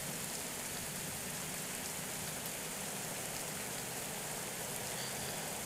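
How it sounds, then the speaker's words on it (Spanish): Steady, even rainfall fills the whole stretch in Pro Cycling Manager 2022 during a Clásica de los Alpes race on wet roads, a continuous wash of raindrops with no talk over it. "que ha cesado quizás un poquito la lluvia"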